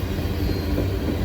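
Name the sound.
train with several locomotives and slug engine passing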